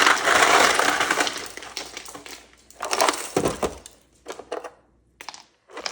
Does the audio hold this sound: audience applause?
no